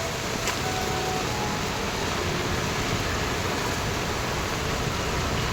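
Heavy monsoon rain pours steadily in a Khed taluka street in Ratnagiri, with water spilling over from blocked gutters; a dense, unbroken hiss fills the whole stretch, close and loud, with no voices.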